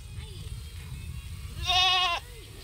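A single goat bleat, a short wavering cry rising out of a low background rumble near the end, heard close and clear without talk.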